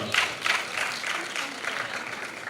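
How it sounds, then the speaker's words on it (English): Audience members at a talk on moving from academia to industry applaud themselves, a steady wash of clapping with a faint rhythmic pulse and no clear voices. "Round of applause for yourself for coming up for me"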